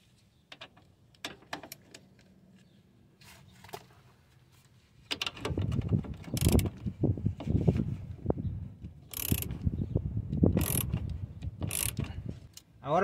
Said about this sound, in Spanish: No pistola de impacto para estas, solamente con llave nomás.